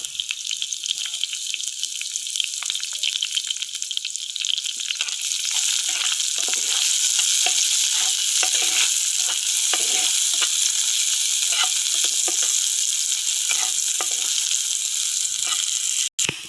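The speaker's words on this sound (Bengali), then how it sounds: "দেখছেন কি পরিমাণ চুলা জাল জ্বলে গেছে এখন পিঁয়াজ দিয়ে দেবো" Onions hit hot oil in a pan on a high flame and fry with a steady, loud crackling sizzle, broken by scraping stirs, for a pointed-gourd dish; a short pause comes early and no one speaks.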